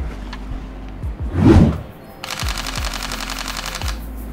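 A budget 2019 camera's shutter firing in a rapid burst at 11 frames per second, heard as a close, fast, even clatter of clicks after a brief louder rustle.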